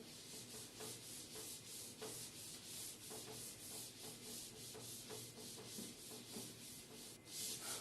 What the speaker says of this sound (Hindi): तो मैं रब करता हूं इसको।